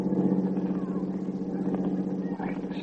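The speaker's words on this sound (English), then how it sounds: "There's a truck coming down the road." A truck rumbles steadily down a road, a low continuous engine drone that holds loud throughout, staged as a radio drama sound effect.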